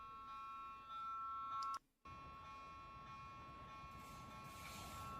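Polish railroad level crossing signal sounding as a steady electronic tone with several sustained pitches, continuous apart from a brief cut-out near the two-second mark, over a low rumbling background.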